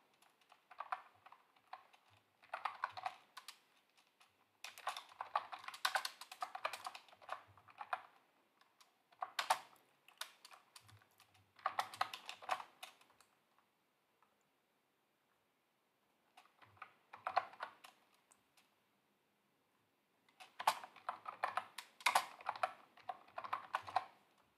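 Fast typing on a computer keyboard while entering variables in SAS Studio, with dense bursts of clicking keys separated by short quiet gaps, close and fairly soft in an otherwise silent room.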